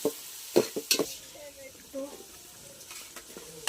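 Onions fry with curry leaves in a hot pan, faint sizzling under a few sharp scrapes and clinks of a spoon stirring, with brief soft voice sounds in the background.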